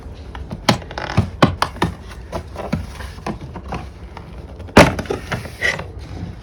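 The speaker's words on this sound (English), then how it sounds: "Pull this clip outside a little bit like that, and then you can pull this trim" Plastic side trim clip pried loose from a Ford Falcon FG MK1 interior panel, giving scattered sharp clicks and snaps with one louder pop near the end, close up and alone.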